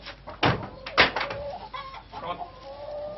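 A hen named Jaunette clucks in a French vegetable garden, a few faint, short clucks and soft calls with quiet rustling in between.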